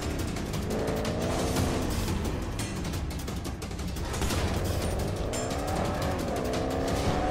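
Police car driving in GTA roleplay, a continuous loud engine roar with rising and falling revs, tire noise and sharp gunfire cracks mixed in throughout.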